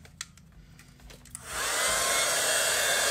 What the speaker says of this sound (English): So I just have my heat tool.